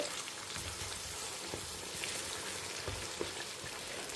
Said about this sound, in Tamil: இது நன்னா எண்ணெயில் வதங்கட்டும்